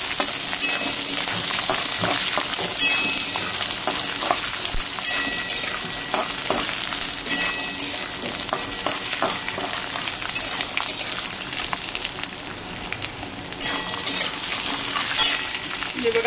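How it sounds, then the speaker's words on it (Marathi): Ginger and garlic fry in hot oil with peanuts and cumin, giving a steady, close sizzle with light crackles and occasional scraping of a spoon against the pan that runs on without a break. "हे बघा आलं लसूण फ्राय झालेले"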